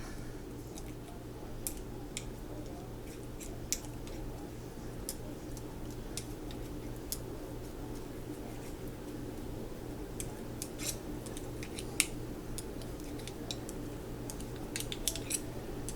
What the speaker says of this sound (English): Get a poker. And debubble.